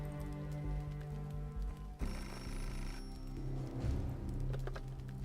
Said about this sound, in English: Answer the phone. Pick up the phone.